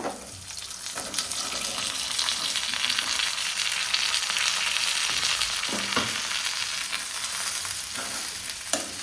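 Mushrooms with finely chopped garlic fry in a pan, giving a steady, close sizzle with occasional scraping stirs and no talking.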